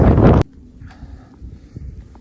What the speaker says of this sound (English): It is windy and cold up here.